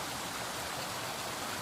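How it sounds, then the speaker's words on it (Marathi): A large waterfall gives off a dense, steady, hissing roar of falling water that fills the whole scene at constant loudness, with no voices. "आता मागं इतका मोठा धबधबा आहे"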